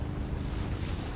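Ocean waves wash in GTA 5 Online, a loud, steady broadband rush of surf and wind noise with no voices.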